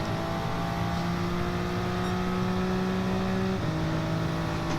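A race car in a racing video game accelerates behind an Alfa Romeo, its engine a steady droning roar that holds level and then shifts pitch near the end, with no voices over it.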